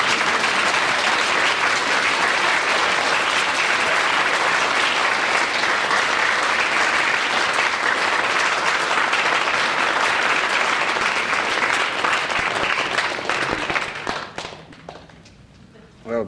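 A studio audience at a radio panel show breaks into loud, sustained applause that rolls evenly for about fourteen seconds, then quickly dies away to near silence.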